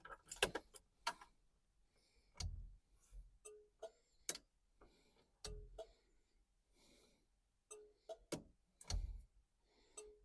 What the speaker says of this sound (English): Yeah, our indicators work.